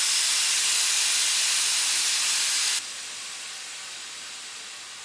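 Pressure cooker of basmati rice in coconut milk releasing its pressure, a loud broad continuous steam hiss that abruptly drops to a quieter steady hiss partway through.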